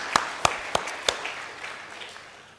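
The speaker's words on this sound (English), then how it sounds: "please give her a big round of applause" A small conference audience at a closing ceremony claps in a brief burst of a few sharp, distinct hand claps that quickly thin out and fade to near silence.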